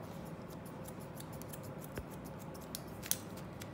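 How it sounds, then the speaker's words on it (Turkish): Thinning scissors snip through long hair in a quick series of light, crisp clicks, close up over a quiet room, with one sharper cut near the end. "Şimdi buna şöyle geniş ağzı saç kesenler var ya, ara makaslar."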